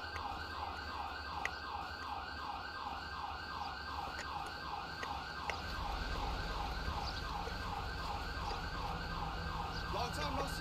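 An ambulance siren in GTA V, wailing with a steady, rapidly cycling tone throughout, loud and continuous over a low rumble of traffic and engine noise.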